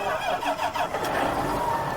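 A John Deere tractor engine starting in the Farming Simulator 19 video game, a rough chugging crank that catches into a steady mid-pitched running rumble, close and fairly quiet.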